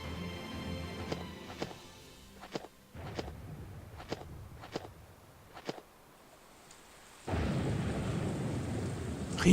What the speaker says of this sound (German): Regen? It's about to pour down on us.